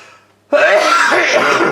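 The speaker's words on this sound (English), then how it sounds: "sorry about the coughing" A sudden harsh throat-clearing cough bursts out after a short quiet moment, close and loud, rasping for over a second.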